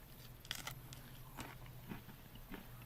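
Fried bluegill fish tail crunched between the teeth, a series of crisp, close crackling bites over a faint steady hum.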